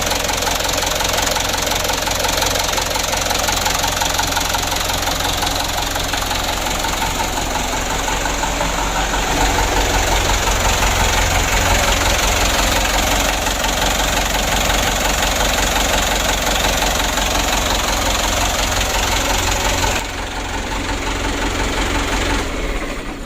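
Rebuilt Mitsubishi Canter 136 HDL diesel truck engine, repaired after overheating with two new nozzles and the thermostat refitted, warming up at idle with a loud, continuous clattering knock and rumble, close by.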